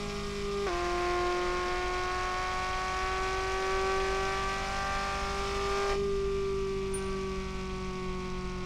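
A race car engine in the game Revhead howls steadily at high revs while lapping an oval track, a sustained tonal drone with a gear shift early on and a slight pitch dip later, no talk.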